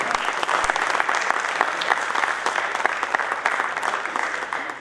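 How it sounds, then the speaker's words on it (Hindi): Theatre audience at a Hindi comedy stage play bursts into loud, sustained applause, dense clapping filling the hall for several seconds without pause. "उसके लिए भी जोरदार तालियां"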